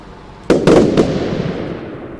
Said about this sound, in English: that guy can shoot off fireworks and it's not lagging me out